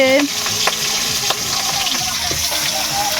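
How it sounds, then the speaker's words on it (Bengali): Fish sizzles and crackles in hot oil in a home kitchen pan, a steady, fairly close frying hiss with a few sharp pops and spatters. "এখন মাছ ভাজছে"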